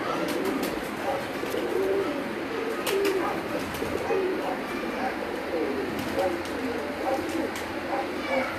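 Pigeons coo repeatedly in a rooftop loft with several rooms of birds, soft overlapping calls and occasional chirps at moderate distance, with faint background murmur.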